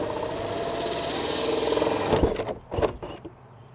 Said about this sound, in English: we have a hole saw here, and we're just going to make a hole right through our sheathing to the outside